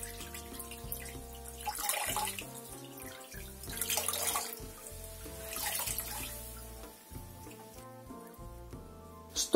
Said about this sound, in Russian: Таким образом мы меняем воду, прополаскиваем пару раз и повторяем те же самые действия